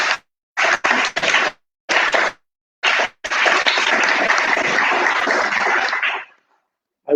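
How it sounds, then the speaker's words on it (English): Audience applause for guest Margret Kreidl at a poetry event: choppy bursts of sound at first, then a steady stretch of clapping that cuts off, as if intermittently recorded. "So give a little applause for Margret."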